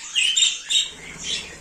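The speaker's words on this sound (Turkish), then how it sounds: "Ama bayağı kuşumuz var bilginiz olsun." Harsh bird squawks repeat in quick succession, close and fairly loud, several calls overlapping over a brief moment.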